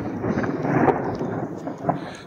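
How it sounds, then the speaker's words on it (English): Rain falls on a hiking trail with a low rolling rumble of thunder, a dense steady wash of sound, fairly loud and close, with no talking. "It's raining."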